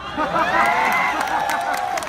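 Large rally crowd outside JNU in Delhi roars loudly and steadily, with shouting voices and scattered clapping running through the whole burst.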